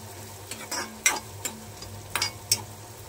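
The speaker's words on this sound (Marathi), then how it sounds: "फ्राय करून घेऊया लाल होईपर्यंत" Onions fry in plenty of oil in a pan until they brown, under a soft steady sizzle. A spoon stirs them in several sharp, close scraping strokes against the metal, with no talking.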